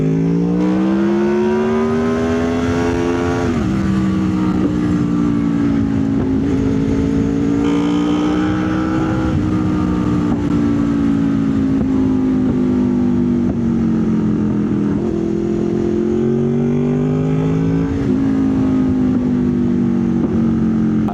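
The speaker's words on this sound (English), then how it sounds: "that is just bang, bang, bang, bang, bang, bang. I'm doing untold damage to my exhaust, probably." A Honda VFR VTEC motorcycle revs under load, its exhaust droning loud and close with rising and falling pitch throughout; no distinct bangs stand out above the steady engine roar.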